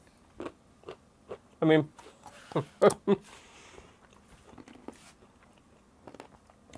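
Crunchy bites of chocolate peanut haystacks, a handful of sharp crisp crunches clustered near the middle with softer chewing around them, close to the mic, while a person talks briefly.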